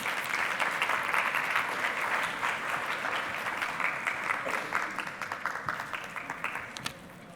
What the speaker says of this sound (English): So we can give everybody a round of applause,